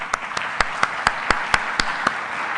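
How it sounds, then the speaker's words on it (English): Applause at an awards town hall comes across as a light, evenly paced run of sharp claps, about four per second, over a faint room murmur. "Let's give him a round of applause."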